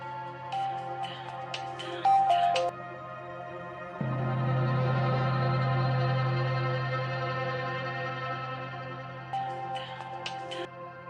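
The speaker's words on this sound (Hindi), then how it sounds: "Pick up the phone जहारा, pick up the phone." An electronic phone ringtone plays a looping melody with a long sustained, droning stretch in the middle, steady and fairly loud with no talking.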